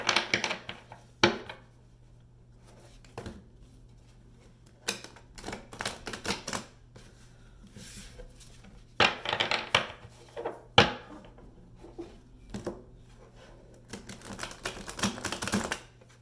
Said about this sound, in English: Let me do a heavy shuffle on these two